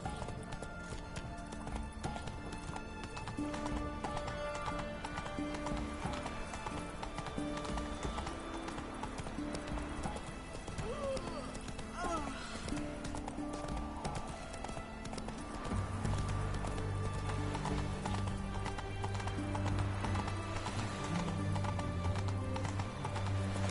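Roach, the horse in the video game The Witcher 3, galloping with rapid rhythmic hoof clip-clops and an occasional whinny, steady and fairly loud over a layer of game music and ambience.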